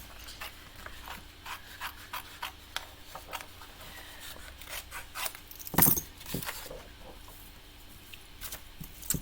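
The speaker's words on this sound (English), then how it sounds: "I'm going to rough cut it first." Scissors rough-cut a paper envelope for a stamping craft project, giving quiet, close rasping snips and paper rubbing at an uneven pace, with one sharper crinkle partway through and no talking.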